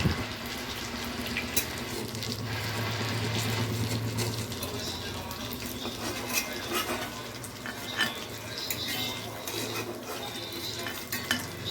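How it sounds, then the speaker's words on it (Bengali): Fried katla fish pieces are lifted one by one out of hot sizzling oil in a pan, metal utensil scrapes and clinks ticking over a continuous frying hiss, with talking mixed in. "এবার একে একে আমি মাছগুলো তুলে নেব"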